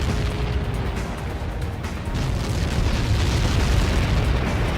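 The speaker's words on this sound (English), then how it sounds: "How many got caught in that explosion?" Massive explosion from a Helios projectile impact in the Ace Combat 7 flight combat game: a sustained, loud rumbling roar with dense low-end boom that swells and holds steady throughout, with no talk.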